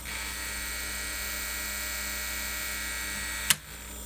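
Small motor of a Sony WM-F2081 Walkman cassette player whirring steadily with a slightly grindy tone, running alone, then a sharp click near the end as it stops.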